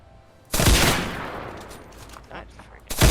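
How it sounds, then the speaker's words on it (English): Gunfire in a Unity-made multiplayer first-person shooter game, a loud burst that decays over a second, followed by quieter scattered noise and another sharp burst at the end. "I shot like 4 bullets and I had to reload."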